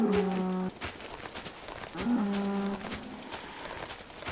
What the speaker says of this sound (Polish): Te krowy, zwierzęta w liściach są dziwne